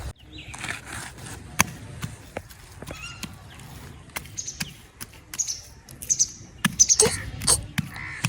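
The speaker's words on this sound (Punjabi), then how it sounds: "ਕਾਂ ਹੈ" Several harsh crow caws ring out at a moderate distance over outdoor background noise, arriving in scattered bursts toward the end.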